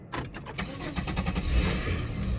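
A Monte Carlo car engine cranks and catches, starting up into a steady, rumbling idle that carries loudly through the rest of the moment, with no talking over it.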